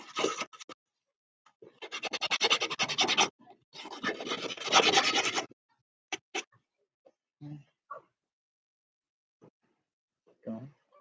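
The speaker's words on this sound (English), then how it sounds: "I'll just use the fine sandpaper." Fine sandpaper rasps on a wooden sliding door handle, two long rhythmic bursts of close scratching strokes, then a few short scrapes and taps separated by quiet.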